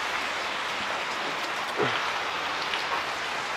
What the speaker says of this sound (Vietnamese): rồi trời mưa mà trời tối